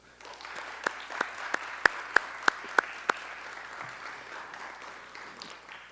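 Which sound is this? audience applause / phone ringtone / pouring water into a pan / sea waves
audience applause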